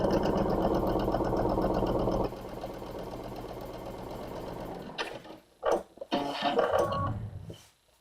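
A sewing machine stitches quilt pieces together with a fast, steady mechanical whir that slows partway through and then stops, followed by a few handling clicks and rustles up close.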